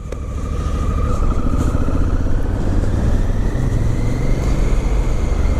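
A 2017 Honda Africa Twin motorcycle riding on a gusty road, a steady close engine drone with a gently rising pitch under wind rumble, no talking.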